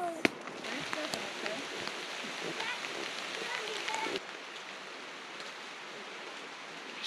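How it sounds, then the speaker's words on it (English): Steady rain falls on a riverside campsite in the Linville Gorge, a broad even hiss with a few sharper drops, louder for the first four seconds and then slightly softer, with no talk. "Just waiting for the rain to stop."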